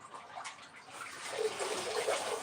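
Water pours steadily into a container for rinsing harvested celery, with a continuous rushing splash that grows slightly fuller as it fills.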